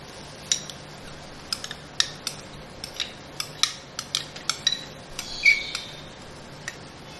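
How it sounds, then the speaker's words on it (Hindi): Spoon scraping and tapping in a bowl as yogurt is added for a tandoori chicken marinade, a string of sharp, light clicks and clinks spaced irregularly over quiet background. "सबसे पहले मैं दही डालूंगी इसमें।"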